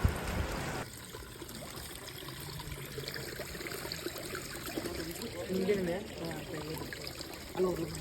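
Mountain spring water trickles steadily into a can on a night trek up a hill, a soft continuous stream heard close by under faint background sounds.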